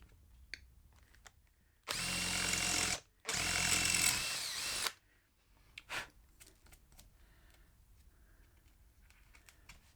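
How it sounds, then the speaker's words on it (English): A small drill bit bores rivet holes for a carbon fibre mod on a KTM Duke stock exhaust, two loud bursts of drilling about a second each separated by a brief pause, then quiet with a few small clicks. "Now I've used as small a drill bit as I could get away with"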